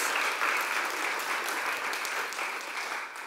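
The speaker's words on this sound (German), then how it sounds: "Ein Applaus und komm gerne hoch." An audience at a panel event on trans, inter and non-binary inclusion applauds, a dense even wash of clapping that holds steady and fades slightly at the end, with no talking over it.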